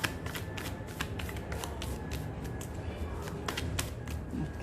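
Tarot cards shuffled by hand in quick repeated riffles, a close, crisp flutter of card edges recurring in short bursts at a steady pace, with no talk over it.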